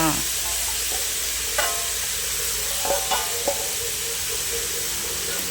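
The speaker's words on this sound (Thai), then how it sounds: "เราก็ผัดหมูให้สุกก่อน หมูเริ่มสุกนะคะก็ใส่หน่อไม้ฝรั่งลงไปเลยจ้า" Minced pork and asparagus stir-fry in a pan, a steady broadband sizzle with scattered scraping stir strokes of the spatula, close and fairly loud, no talking.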